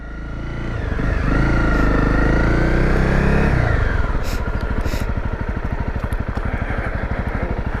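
Honda CRF250 Rally motorcycle on muddy country lanes near a village, the engine revving up loudly close by, then settling into a throbbing, pulsing idle-like chug.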